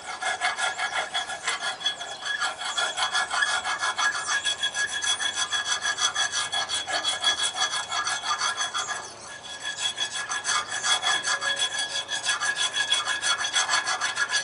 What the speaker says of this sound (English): I'm getting dark brown, so I'm still cutting rust out of there.